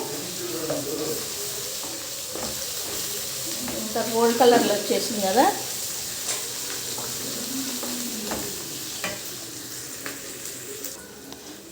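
Turmeric with garlic and spices frying in a pan as the base for a country chicken curry, a steady sizzle with stirring scrapes running throughout while someone talks over it.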